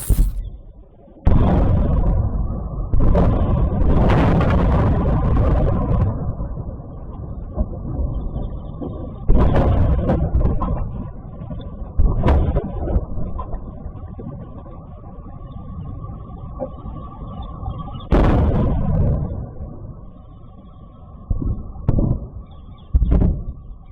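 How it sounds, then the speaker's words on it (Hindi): Iranian missile strikes landing in Israel, captured in news footage: a series of loud booming blasts and rumbling impacts, several sharp bursts spaced across the clip over a continuous roar, with no talk. "ईरान की खैबर मिसाइल के साथ साथ जो इधर उधर साथ में जो मिसाइलें दागी थी ईरान ने, वो जब गिरी हैं तो गिरने वाला मंजर भी मैं आपको ज़रूर दिखाऊंगा"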